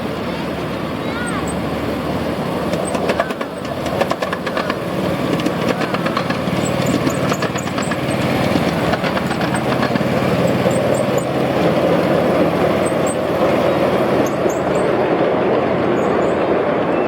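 Miniature live steam railway locomotive passing on a figure-eight track at a park, a continuous rumbling mechanical roar with rhythmic clicks and faint high whistles, fairly loud, with people talking over it.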